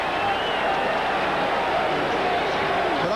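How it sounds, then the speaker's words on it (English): Steady roar of a packed football stadium crowd at Michigan during a 1985 Ohio State–Michigan college game, a dense continuous wash of noise without breaks or peaks. "But I think the crowd noise had a definite effect there"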